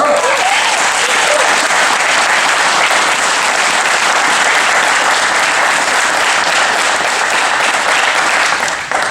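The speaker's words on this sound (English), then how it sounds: "a round of applause for her" Loud, sustained audience applause for an active-duty Marine corporal at a Marine Corps birthday celebration in a hangar, a dense wash of many hands clapping continuously before tapering slightly at the end.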